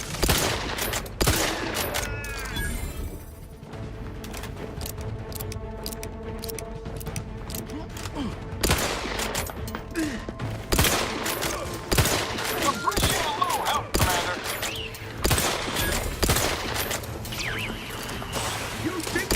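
Repeated gunfire from a slow-loading gun in The Outer Worlds, sharp loud shots scattered through a busy combat mix with a short quieter stretch early on, while people talk over it.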